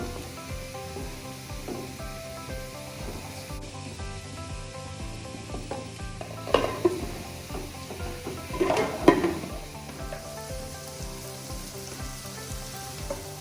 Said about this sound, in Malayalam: അപ്പോൾ തുറന്നിട്ട് നമുക്ക് ചെറുതായിട്ടൊന്ന് ഇളക്കി കൊടുക്കാം